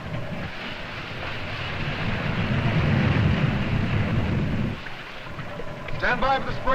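A ship's engines churn with a low, rumbling drone that swells and then cuts back, while voices speak on deck toward the end.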